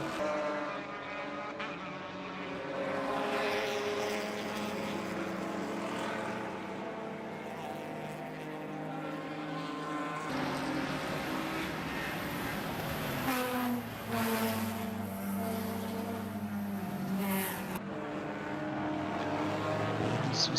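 Race cars, including GT-class cars such as an Aston Martin, Mercedes and Porsche, roar through a chicane at the Charlotte Roval during a 12-hour endurance race, engines droning and rising and falling in pitch as several cars pass continuously at moderate distance.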